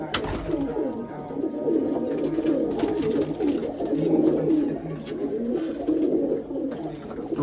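Several pigeons coo together in soft, overlapping throaty calls at a pigeon sale in Ichapur, West Bengal. The cooing runs continuously at moderate volume with no voices.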